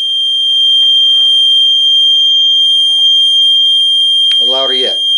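A loud, steady high-pitched electronic tone from a water detector alarm drones on without a break, while a voice briefly speaks near the end.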